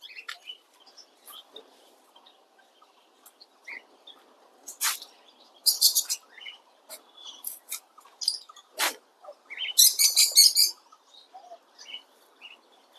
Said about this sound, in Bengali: অনেক পাখি রয়েছে এখানে